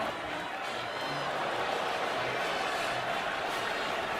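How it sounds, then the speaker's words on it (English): A football stadium crowd at an Oklahoma versus Texas Tech game reacts to a replay, a broad continuous roar and murmur of many voices from a distance. "the crowd reacts as they watch the replay with you"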